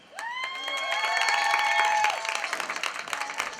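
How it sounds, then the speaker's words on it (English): An audience at a school board meeting bursts into steady applause with cheering and whoops, with dense clapping that holds for a few seconds and then thins out. "some cheering section."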